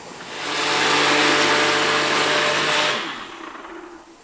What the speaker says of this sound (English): we're going to whack that in the blender